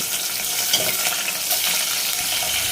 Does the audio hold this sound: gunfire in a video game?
no